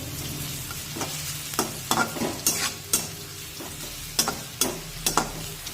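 Chopped onion sautéing in a hot pan sizzles steadily while a spoon stirs it, giving repeated sharp scraping clacks at an uneven rhythm, close and clear with no talking.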